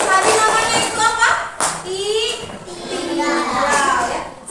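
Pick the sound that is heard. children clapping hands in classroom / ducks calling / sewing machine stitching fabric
children clapping hands in classroom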